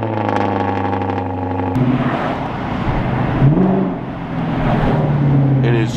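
Lexus LS460 V8 starting cold on a freezing day, a steady low idle drone that jumps into a rising rev, then rumbles and climbs again, loud and close with no talk.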